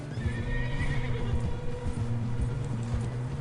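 In Red Dead Redemption 2, a horse whinnies loudly up close while hooves clip-clop in an uneven beat beneath it, set against a busy outdoor game ambience.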